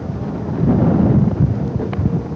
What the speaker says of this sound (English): Very, very windy day here in Wellington today. It's gusting consistently at 30 to 40 knots.